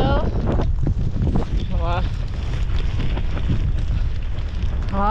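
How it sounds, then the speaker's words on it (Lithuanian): Wind and rain buffet the microphone outdoors in a constant rough roar, with a voice heard briefly over it. "Vėjukas, lietutis vėl, šlapė vėl."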